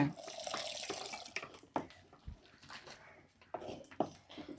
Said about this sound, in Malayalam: മിക്സിയുടെ ജാർ കഴുകിയ വെള്ളം അതുകൊണ്ട് ഒഴിച്ചോ